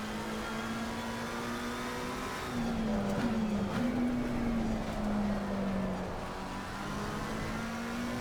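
Race car engines in the Assetto Corsa Competizione racing game, GT cars at Barcelona including a McLaren and a Lamborghini, a steady close engine drone that swells and shifts pitch through a corner, with no talk.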